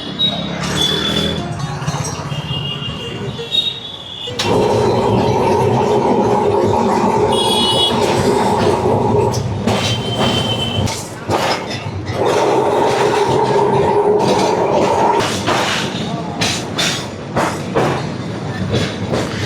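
A Kolkata tram rumbles along its rails with a steady rolling drone and intermittent clanks and squeals, loud and close, swelling and easing in two long stretches.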